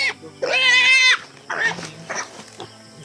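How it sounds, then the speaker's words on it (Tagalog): A goat bleats up close, a loud wavering cry followed by shorter bleats, with other livestock sounds and rustling around it. "Yung kambing din, dalang-dala namin."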